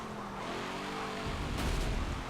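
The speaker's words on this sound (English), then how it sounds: "Try to go full throttle there." Race car in Forza Motorsport 7 at full throttle, engine buzzing hard under a tire screech, followed by a low thump and growl, short and busy.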